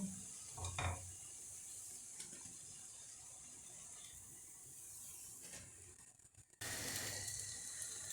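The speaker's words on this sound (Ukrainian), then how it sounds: "Дерунці смажаться." Potato pancakes sizzle and fry steadily in a pan, with a brief clatter early on and the sizzle growing louder near the end.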